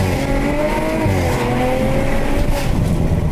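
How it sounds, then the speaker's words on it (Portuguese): A fast street-race car, a GTR, accelerates hard, its engine pitch climbing steadily in a loud, continuous roar with a faint tire squeal, close by and without talk. "Mas que esse carro do Renan tá rápido."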